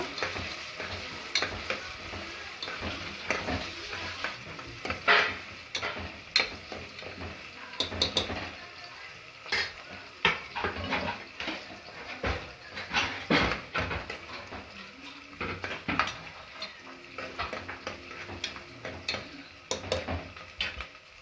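Onion, carom seeds, cinnamon and cloves fry in a pan for Ambur chicken biryani, sizzling steadily up close, with frequent sharp spatula taps and scrapes against the pan.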